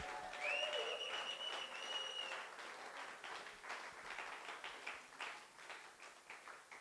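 A church congregation applauds in praise of Jesus, sustained clapping from a crowd that gradually thins out, with a brief tonal sound near the start.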